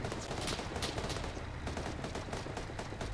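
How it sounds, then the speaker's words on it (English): Dense, continuous gunfire in the game Operation Ouroboros, with rapid overlapping shots and bursts crackling loudly throughout against a noisy battle backdrop. "I'm getting shot."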